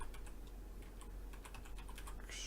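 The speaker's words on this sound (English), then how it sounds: "Yes, I am typing." Fast, irregular clicking of keys on a computer keyboard, recorded close and quietly, with no voices over it.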